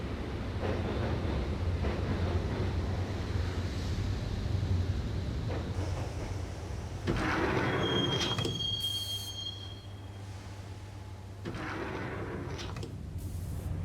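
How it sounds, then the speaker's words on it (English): Train interior ambience from Max Payne: a steady loud rumble of rolling wheels with a sharp metal wheel squeal rising partway through, continuous with no talking. "the train doors had already shut behind me, and I was in for the ride"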